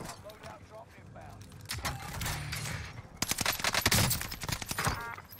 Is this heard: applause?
no